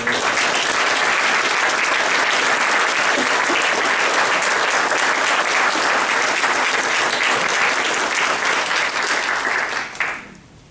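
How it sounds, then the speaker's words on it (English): A large audience at the 2019 USA South Hall of Fame ceremony gives a final round of applause for the award winners. The clapping is loud and sustained for about ten seconds, then tapers off abruptly at the end. "let's all please give one more final round of applause for all of our award winners"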